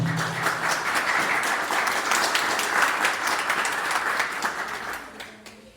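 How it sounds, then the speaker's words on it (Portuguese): Audience applause fills a Ruby developer meetup talk venue, dense steady clapping from a crowd that holds loud for several seconds and then tapers off near the end. "Palmas para vocês, para todo mundo."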